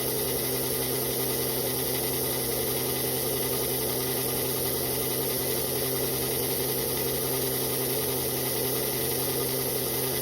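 A small HO-scale slot car motor being run in on a bench, a steady continuous whine and hum with a faint vibration, unchanging throughout at moderate level with no talk.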